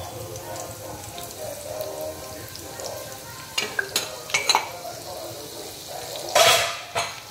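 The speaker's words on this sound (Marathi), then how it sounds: "आता ह्याच्यामध्ये आपण हा लसूण घालूया" Crushed garlic dropped into a hot pan for chicken biryani sizzles and spits, with stirring scrapes, a few sharp clatters near the end and a louder burst of frying.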